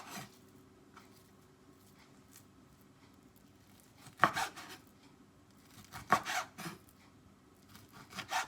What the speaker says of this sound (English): Slice it into cubes.